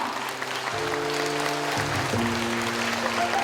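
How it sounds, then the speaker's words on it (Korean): An audience at an international UNESCO heritage conference applauds to welcome village residents, steady even clapping held throughout, with a sustained musical tone underneath. "박수 한번 부탁드립니다"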